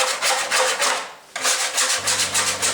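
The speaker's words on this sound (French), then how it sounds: "c'est d'abord gratter toute la saleté qui se trouve ici, un peu partout" Rhythmic scraping strokes as dirt is scraped off a Porsche 911 Targa chassis during restoration, a steady back-and-forth rasp with a brief pause midway, close and fairly loud.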